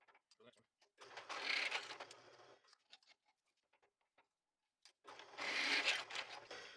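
A power drill with a 10 millimeter bit bores a hole during a Corolla lift kit install, running in two separate whirring bursts of a couple of seconds each, split by a quiet pause and a few small clicks.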